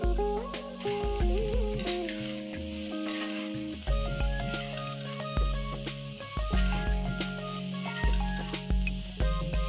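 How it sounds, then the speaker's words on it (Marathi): Half a kilo of broad beans (ghevda), broken into inch pieces, are stirred into softened onions in a pan, giving a steady sizzle with repeated rhythmic scraping and clanking strokes, close and alone. "इथे मी अर्धा किलो घेवडा 1 इंच मोडून घेतलेला आहे, तो घालून जरा 1-2 मिनिटं परतून घेऊया"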